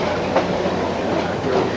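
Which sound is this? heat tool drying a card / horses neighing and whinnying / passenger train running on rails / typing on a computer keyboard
passenger train running on rails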